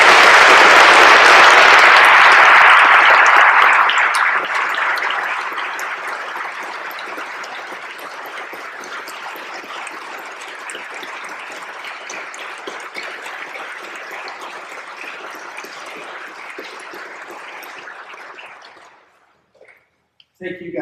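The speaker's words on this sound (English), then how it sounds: "And I'd ask that all of you join me in just giving these guys a round of applause." Funeral service audience applauding together, a loud dense burst of clapping that peaks at the start, then settles into steady sustained applause for a long stretch before stopping abruptly.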